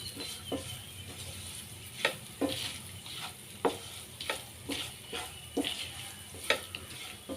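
Chow chow squash and aromatics for a buttermilk kuzhambu sautéing in a pan, with a soft steady sizzle broken by repeated light scraping and stirring strokes close by, no talk.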